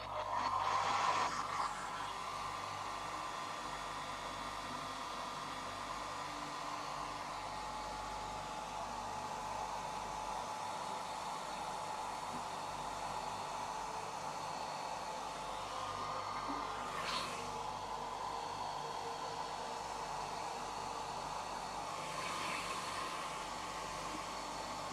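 A hair dryer blows steadily and loudly for about 25 seconds in one continuous, unbroken whoosh, with no other sounds over it.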